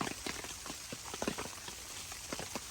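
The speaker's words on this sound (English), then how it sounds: "Weather report, still raining." Rain falling on a Nature Hike Ranch hot tent, a close patter of many small irregular drops tapping the fabric, soft but constant, with no voices.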